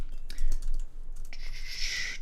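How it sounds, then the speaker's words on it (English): Brief bursts of keystrokes on a computer keyboard in a home studio, a few quick clicks followed by a denser run of clattering taps, close and clear with no talking. "Let me type this again."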